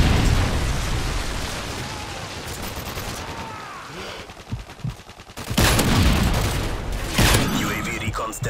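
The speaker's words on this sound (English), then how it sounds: "Friendly Predator missile inbound." Predator missile strikes in a Modern Warfare 3 team deathmatch, a loud burst of rumbling explosions and rattling gunfire-like blasts followed by sharp impacts and crackling debris, layered over a noisy game mix.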